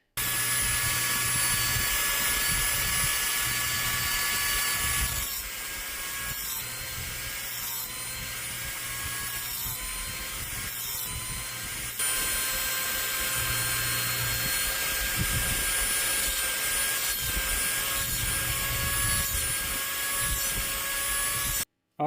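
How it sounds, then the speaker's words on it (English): A Dremel rotary tool carving a sunburst texture into scales on a custom goat piece, running as a continuous high-pitched whine close up, its pitch shifting slightly as pressure changes, with no talking. "how I get this texture with the Dremel"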